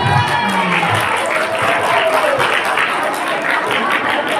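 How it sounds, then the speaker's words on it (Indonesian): An audience of students at an Islamic Maulid Nabi speech event gives loud, lively applause, dense clapping mixed with cheering and children's shouts filling the whole stretch. "diberikan tepuk tangan yang meriah untuk teman-teman kita"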